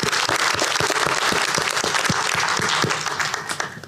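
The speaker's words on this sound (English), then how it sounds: "let's give them all a round of applause" A board meeting audience applauds women athletes with a dense, steady round of clapping from many people in an indoor room, sustained for several seconds before beginning to taper at the end.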